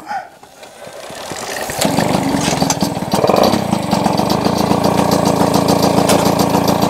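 An old engine turns over and catches after its contact points are repaired, then settles into a loud, steady, rough idle with a rapid chugging pulse, close up with no talk.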